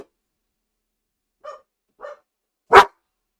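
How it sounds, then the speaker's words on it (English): Dogs bark in three separate outbursts: two short, fairly soft yips about half a second apart, then a louder, sharper bark after a pause, against an otherwise silent background. "Them dogs are barking."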